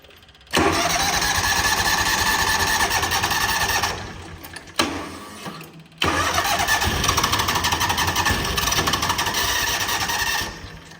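John Deere Gator 6x4 engine running poorly on one cylinder, cranking to life with a rough, uneven drone, cutting out briefly, sputtering, then catching again before dying away.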